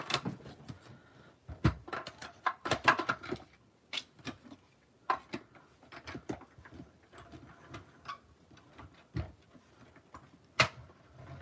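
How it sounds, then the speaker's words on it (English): Die cutting machine cutting card stock in a craft room: a busy run of sharp mechanical clicks and ticks at an uneven rhythm, close and fairly quiet, with no talking. "One last time with the die cutting machine."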